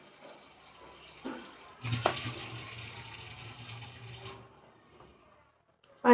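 A container of water tips over and spills, a sudden close gush that splashes out for about two seconds before trailing off into faint drips and quiet.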